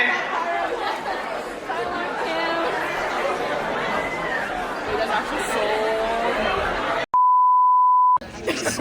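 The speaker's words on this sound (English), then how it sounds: "The fire alarm just went off, but it is intermission." A building fire alarm sounds during intermission at a dance showcase, a steady loud electronic beep cutting through crowd chatter for about a second.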